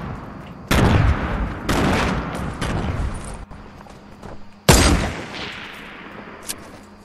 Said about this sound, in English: someone just sniped me from behind